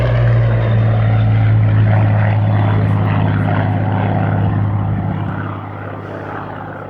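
Supermarine Spitfire Mark I propeller fighter flying past at an air show, a loud, steady droning engine roar that eases slightly toward the end.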